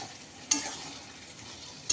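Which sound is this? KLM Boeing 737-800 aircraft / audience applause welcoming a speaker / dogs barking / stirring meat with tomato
stirring meat with tomato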